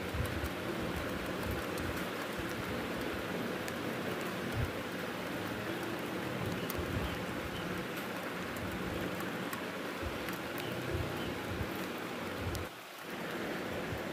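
Steady rain pours down continuously, a dense hiss of drops spattering on surfaces with no voices.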